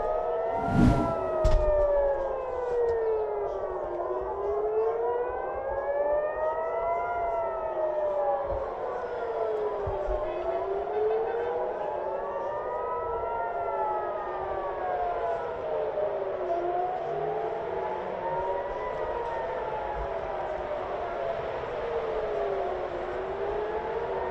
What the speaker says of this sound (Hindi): इसके अलावा पूरे तेल अवीव में सायरन बज रहे हैं